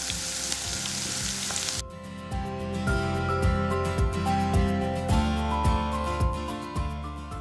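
Garlic and green chillies frying in oil in a pan for a Kerala fish roast, a continuous close sizzle with a sharp hiss at first settling into steady crackle and a few small knocks.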